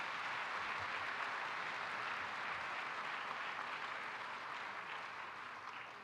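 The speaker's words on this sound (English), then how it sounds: "One last round of applause for everybody on stage." Audience applause for everyone on stage at a healthcare innovation event, a dense, steady wash of clapping that holds evenly for several seconds and thins slightly near the end, with no voices over it.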